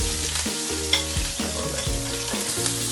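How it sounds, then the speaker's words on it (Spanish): Chopped onion sautéing gently in a pan for a seafood fideuá, a steady close frying hiss running throughout with a low musical background underneath. "Se sofríe la cebolla aquí poquito a poco lo primero"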